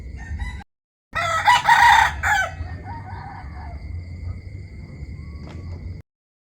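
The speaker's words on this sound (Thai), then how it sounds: "นอนฟังเสียงไก่ขันครับ" A rooster crows once, loud and near, at an organic farm stay, followed by quieter ambient farm sounds and a faint tone in the quiet morning air.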